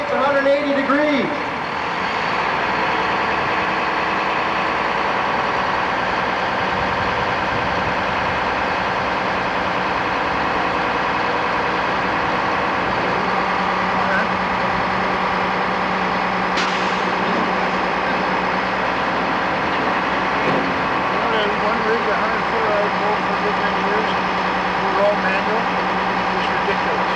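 New Q-Mac diesel engine running steadily at a constant speed on a 1997 Schwing concrete pump truck, a loud continuous drone, with someone talking over it throughout.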